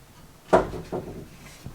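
Kitchen drawers in a 2023 Alliance Paradigm RV are pulled open and pushed shut, giving a sharp wooden thud followed by two softer knocks and slides, close and fairly loud with no talking.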